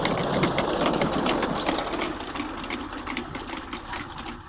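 A tractor-drawn manual seed drill working in a farm field gives off a continuous rhythmic mechanical clatter and ticking, fairly loud and close, over a low engine hum.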